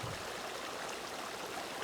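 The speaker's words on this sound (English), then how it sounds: "this babbling brook in a rainforest with trees and water" A babbling brook in a rainforest flows steadily, a continuous close wash of water spread across the whole band with no pauses and no voices.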